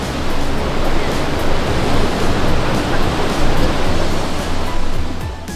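Steady ocean surf and sea wind on the Jeju coast beside the Daepo columnar basalt cliffs, a dense, continuous broadband wash with gentle swells in loudness and no voices.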